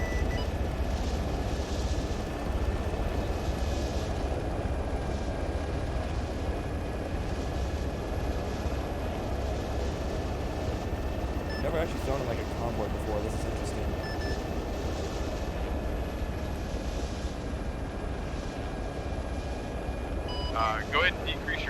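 Helicopter flying in Arma 3, a steady droning rotor and engine hum running throughout at moderate level, with a faint whine above it and some brief clicks near the end.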